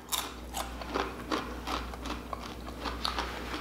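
Crisp crunchy bites into Wingstop chicken wings come close to the mic, a series of sharp crackling chews repeating at a steady pace over a low hum.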